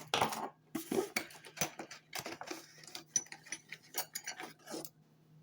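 A metal hole saw adapter being rummaged for among tools in a tool tote, giving a close run of irregular metallic clinks, rattles and clatters with brief pauses between, and no talking.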